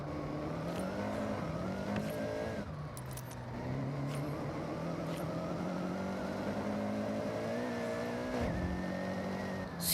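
A car engine in Forza Horizon 6 revs and shifts pitch steadily while the car drifts with a Scandinavian flick, with brief clicks and rattles over the sustained engine drone.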